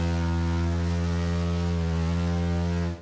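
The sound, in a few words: prolonged ship horn blast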